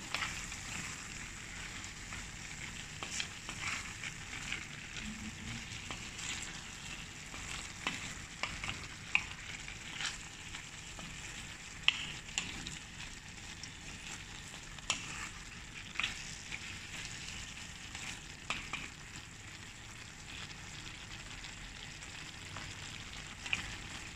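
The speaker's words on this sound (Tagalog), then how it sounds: "haluin natin para pantay ang lasa ng" Mixed colorful vegetables fry steadily in a pan while a spoon stirs them, giving a constant sizzle with scattered scraping clicks throughout, close and without talk.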